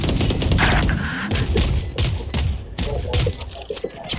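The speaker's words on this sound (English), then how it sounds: "All missiles away." Rapid volleys of missile launches in a video game, sharp blasts and thuds firing in quick, irregular bursts with short whooshing tails, close and loud throughout.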